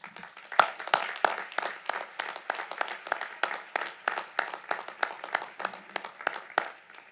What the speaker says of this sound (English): Ladies and gentlemen, a round of applause for groups 3 through 10.